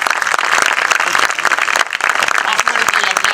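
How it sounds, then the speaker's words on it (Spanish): A crowd applauds second-grade students of a public school at an outdoor ceremony in a plaza marking the anniversary of the Armenian genocide: loud, dense, sustained clapping throughout, close and even. "Más fuerte el aplauso para los estudiantes de la Escuela Pública 156 Armenia de segundo grado"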